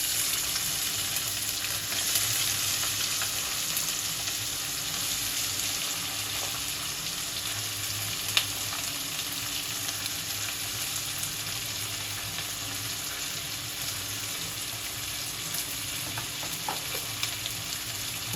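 Chopped onions fry in a pan for chicken kheema after the garam masala, a steady close sizzle that runs unbroken with faint scraping from stirring and no talk.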